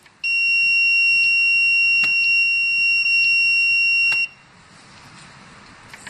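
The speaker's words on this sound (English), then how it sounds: "If I leave all of them, then the buzzer will beep." A student-built robot's buzzer gives a loud, continuous high-pitched electronic beep for about four seconds with faint clicks underneath, then cuts off, leaving low room noise.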